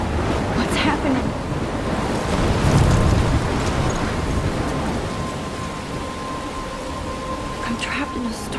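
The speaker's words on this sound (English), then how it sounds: "I'm trapped in a storm?" A storm rages in the video game Life is Strange: a continuous roar of wind and rain with a deeper rumble of thunder swelling near the middle and a few sharper gusts later.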